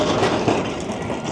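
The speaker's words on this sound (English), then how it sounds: "there goes one of the trams" A Blackpool tram passes along the beachfront, a loud continuous rumbling roll with rail noise filling the short moment, no talk.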